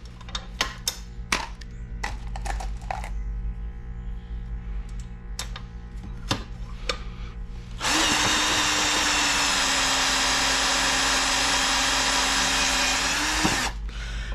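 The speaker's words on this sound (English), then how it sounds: "And I have the drill attachment on here, which makes it so much easier than cranking it by hand." A Lyman Universal case trimmer driven by a drill attachment trims a .223 brass casing. Several sharp metallic clicks and taps come first, then a loud steady drill whine runs for about six seconds and stops abruptly.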